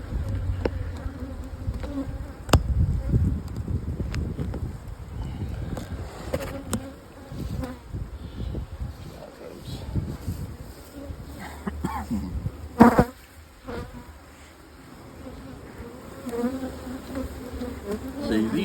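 Honey bees buzz steadily around strong nuc hives outdoors, a close, continuous drone with individual insects swelling loudly past now and then.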